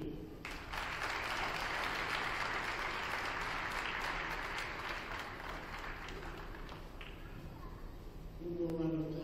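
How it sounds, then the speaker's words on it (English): A gym crowd at a high school wrestling meet against Bethel Tate applauds the seniors with sustained, loud, dense clapping that holds steady for several seconds, then fades out as a voice begins speaking. "One more round of applause for all of our seniors this year."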